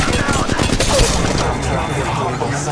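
Rapid gunfire from a close firefight in the video game Apex Legends fills the moment, loud and continuous with dense overlapping shots and game noise.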